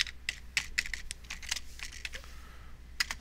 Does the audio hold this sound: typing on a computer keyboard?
yes